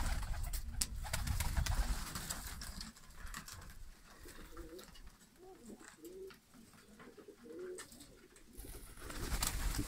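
Stavropol high-flying white pigeons coo in soft repeated rolling phrases, close by, amid shuffling and handling noise in a loft.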